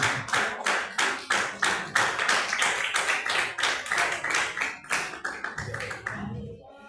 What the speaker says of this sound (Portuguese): Vamos receber a cena do Senhor com as palmas bem alegres para Jesus